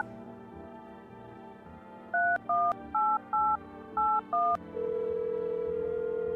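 A telephone number is dialed in a video game: after a quiet stretch comes a quick series of six touch-tone beeps, then a steady ringback tone.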